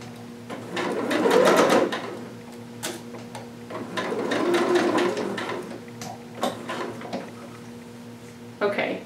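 A sewing machine stitches a Vogue 2530 garment seam in bursts, with a loud run near the start, another in the middle and short taps near the end, while a person speaks in between.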